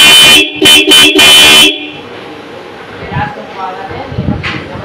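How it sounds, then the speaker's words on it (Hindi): A newly fitted motorbike double horn honks in several loud, close blasts in quick succession, followed by quieter background noise. "अब दोस्तों हॉर्न बजा के चेक करते हैं,"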